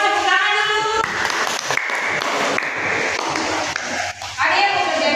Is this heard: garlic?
no